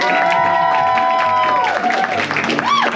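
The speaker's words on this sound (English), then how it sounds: "Keep the applause going." An audience applauds and cheers after a magic show at the Magic Castle, a dense wash of clapping with a tonal sweep of music or voice over it, steady and moderately loud.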